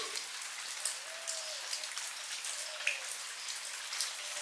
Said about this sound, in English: Unfortunately, it is very rainy, which makes sense because we're in a rainforest